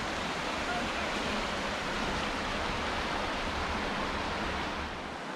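Water of Deep Creek in the Great Smoky Mountains rushes steadily as a dense, even broadband wash, close and continuous with no break.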